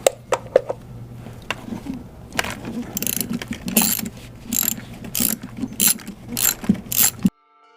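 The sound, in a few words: ratchet undoing BMW N54 valve cover bolts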